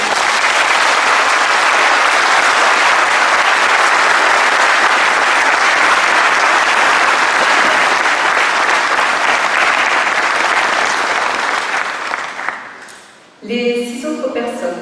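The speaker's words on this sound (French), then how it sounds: "j'aimerais qu'on les applaudisse" Audience applause at a mayor's New Year greetings ceremony in Gravenchon, France, a dense, loud sustained clapping from a hall crowd lasting about twelve seconds, then fading out as a voice begins speaking.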